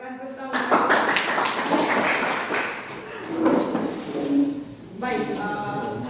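A classroom of students applauds during a history lesson in an Indonesian school, a sustained burst of clapping lasting several seconds with voices mixed in before it fades.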